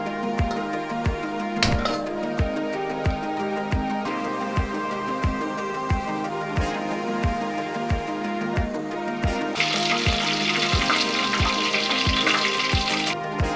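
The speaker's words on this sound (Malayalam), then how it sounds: "പാത്രം അടുപ്പത്ത് വെച്ച് എണ്ണ ഒഴിച്ചു കൊടുക്കാം." Oil heats in a pan on a stove for a beef curry, with a continuous sizzle, a regular ticking pulse, and a brighter burst of frying near the end, moderately loud with no voices.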